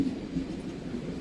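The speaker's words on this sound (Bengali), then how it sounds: "আর আমার উপর দিয়ে এই যে ট্রেন যাচ্ছে দেখতেই পাচ্ছেন।" A train passes overhead in Interlaken, Switzerland, making a steady, fairly loud low rumble with a rolling rail clatter and no voices.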